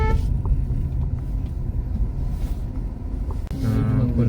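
A car engine rumbles low and steady as the vehicle is driven into a parking area near the Kunkeshwar temple, with a brief dip midway and a shift in tone toward the end.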